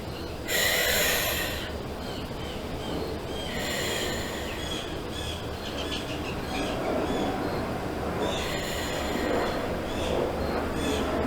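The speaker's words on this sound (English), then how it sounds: "we're just going to hold our hands out, take 3 deep breaths" Three deep breaths taken during a meditation, each a loud, close, breathy rush of air, spaced a few seconds apart over a steady low background hum.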